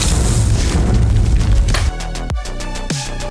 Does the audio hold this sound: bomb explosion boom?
yes